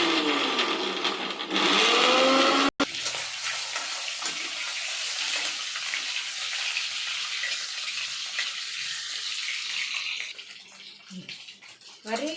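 A kitchen mixer grinder whirs loudly while grinding red chilli into powder, running in a steady high-pitched buzz with a brief break, then winding down as a voice speaks faintly.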